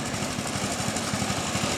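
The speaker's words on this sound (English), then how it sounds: "I was going to show you what a normal 8 horsepower idling motor looks and sounds like" An 8 horsepower John Deere lawn tractor engine idles steadily nearby, its low chugging pulse repeating evenly and fairly loud throughout.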